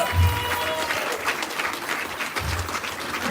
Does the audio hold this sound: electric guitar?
no